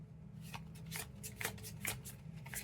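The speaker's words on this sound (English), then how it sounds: "Let's pull a couple of cards," Tarot cards shuffled by hand at close range in a quiet room, a soft continuous riffle with repeated sharp flicks and slaps of the deck, no voice.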